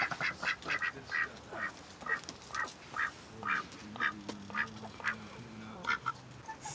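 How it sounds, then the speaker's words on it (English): A domesticated mallard duck quacks in a steady run of short, nasal calls spaced about half a second apart, close and clear throughout with no talk over it. "look at this mallard duck, you guys"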